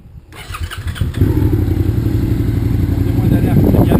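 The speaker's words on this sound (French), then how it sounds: "Je vais maintenant vérifier le moteur. Pour ça, je mets le contact." A motorcycle engine cranks briefly, catches after about a second and settles into a loud, steady idle close by, with an even mechanical rumble continuing to the end.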